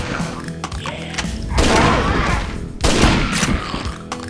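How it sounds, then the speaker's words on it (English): Double-barrel shotgun blasts from the video game Ashes: Dead Man Walking, two heavy booming reports about a second apart, each with a rumbling decay, over faint game background. "Alright, let's try the shotgun."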